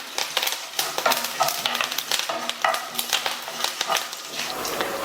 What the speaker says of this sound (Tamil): மறுபடியும் இதை நல்லா 1 நிமிஷம் போல் வறுத்துட்டு